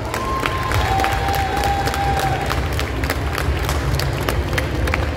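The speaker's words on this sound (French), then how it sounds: "On applaudit encore une fois nos représentantes." A crowd at a cosplay contest at a Paris manga and sci-fi show keeps up sustained applause with scattered sharp claps, alongside a faint high whistle-like tone.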